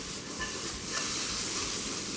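Carrots hit a pan of browning garlic in a home-style Filipino dish, giving a close, steady sizzle and hiss with light stirring scrapes and no voices.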